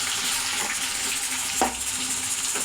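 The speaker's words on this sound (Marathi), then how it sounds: "बघा तेल कसं एकदम चरचरीत तापलेलं आहे." Hot oil sizzling in a pan while cooking dry mutton in a home kitchen, a steady bright hiss throughout with a brief sharper crackle midway, no talking.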